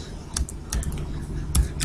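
Laptop keys tapped in a short burst of typing, close and fairly loud, with a few sharper clicks scattered through about two seconds.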